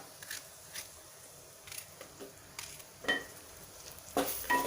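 Eggplant pieces, each cut into eight chunks, being sautéed in a pan: quiet sizzling and stirring, with intermittent scrapes and clinks of a utensil that grow louder toward the end.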